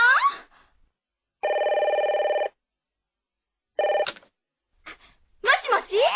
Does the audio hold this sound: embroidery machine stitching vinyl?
no